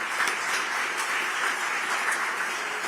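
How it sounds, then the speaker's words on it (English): An audience at the Resilient Ready Tampa Bay symposium gives the staff a steady round of applause, dense, even clapping from a large crowd lasting throughout with no talking. "So give them another round of applause."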